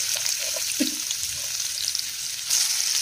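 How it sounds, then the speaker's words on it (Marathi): Steady, bright sizzle of onions frying in hot oil, close up and fairly loud, with a few soft pops and a surge of crackling near the end. "तर बघू शकता मी इथं कांदा फोडणीला घालते गरम तेलात"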